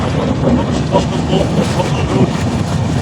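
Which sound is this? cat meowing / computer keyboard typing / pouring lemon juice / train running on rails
train running on rails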